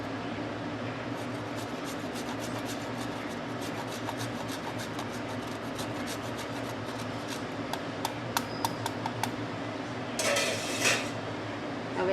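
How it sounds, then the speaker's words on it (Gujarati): Coconut being grated into a pot of Kathiyawadi-style toor dal, a steady close scraping and rasping with light metallic clinks of utensils against the pot, continuing alone without talk. "હવે આપણે એમાં થોડું કોપરું છીણીશું"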